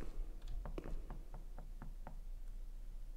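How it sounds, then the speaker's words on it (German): A series of distinct knocks in the horror game The Town of Light, roughly eight evenly spaced raps over a low steady hum, moderately close and fairly quiet, with no one talking. "Habt ihr auch gerade dieses Klopfen gehört? Es kam von links."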